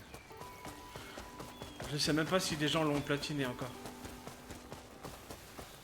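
Horse hooves clop at a steady gait in the Crimson Desert video game, a quiet rhythmic patter running beneath someone speaking French.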